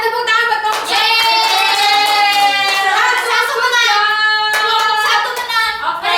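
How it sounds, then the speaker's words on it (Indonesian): In a classroom, applause mixes with children's voices chanting together in a sung rhythm, with scattered claps rising through the group noise. "Tepuk tangan buat kamu."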